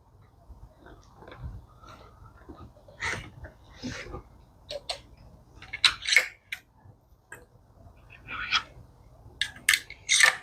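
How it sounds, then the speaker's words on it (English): Scissors snipping thread while reupholstering an old seat, a series of close, irregular crisp snips and clicks amid soft handling noises, growing busier and louder toward the end. "Before I cut the thread."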